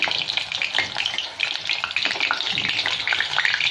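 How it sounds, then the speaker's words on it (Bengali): Whole garam masala spices crackle and sizzle in hot oil in a pan for a steady, close stretch of frying with light stirring, no voices. "এই তেলের মধ্যে একটু আমি গরম মশলা দিয়ে দেবো, গোটা গরম মশলা"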